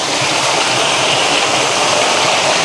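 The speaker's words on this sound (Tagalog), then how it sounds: "Ayun yung falls guys oh." Waterfall at a resort in Baler, its steady broadband rush of falling water loud, close and unbroken throughout.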